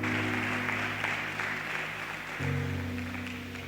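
Church congregation clapping loudly and steadily, with a sustained organ or keyboard chord beneath that shifts pitch partway through; no voices stand out.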